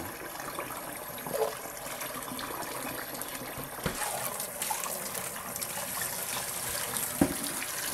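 Yam rinsed under running water, a steady, faint trickle and splash of tap water continuing throughout, with occasional louder knocks and handling bumps, no talk.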